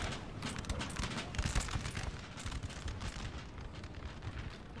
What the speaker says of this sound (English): They have artillery shelling the heck out of them